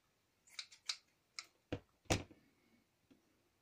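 Scissors make a handful of short, crisp snips in quick succession, close and fairly quiet, followed by a faint final click in an otherwise silent room.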